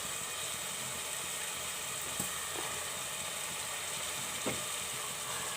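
Turnip sabzi sizzles steadily in a pan as green coriander is mixed in, a constant close hiss of frying with a couple of faint scraping stirs.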